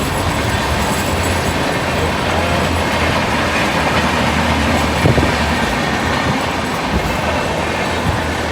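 A train passes a railway crossing near a bridge, producing a loud, steady rumble with rolling wheel clatter and a brief metallic thump midway. It sounds close and continuous, with no talking.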